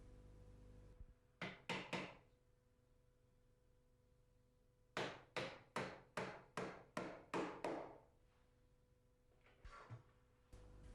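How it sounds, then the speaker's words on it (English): Hammer blows driving pins through timber packing into wooden floor joists: a short burst of three strikes, a pause, then a steady run of about eight sharp, evenly spaced knocks, then a couple of fainter taps, close and alone. "Fix this with pins to the joists."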